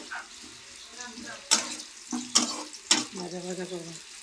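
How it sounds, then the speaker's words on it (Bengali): Steady frying sizzle of spice paste with bay leaf in a pan, with a few sharp clatters of utensils against metal and some stirring; a voice murmurs faintly in the background. "এই তেজপাতা অ্যাড করে পেস্টটা আমরা ভাজা ভাজা করব।"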